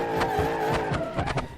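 In the BeamNG.drive racing game, a badly damaged, smoking car spins donuts, its tires squealing and skidding in repeated bursts over a strained engine, fairly close and with no talk.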